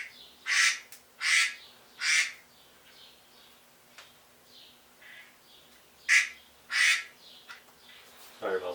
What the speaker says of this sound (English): Excuse the phone.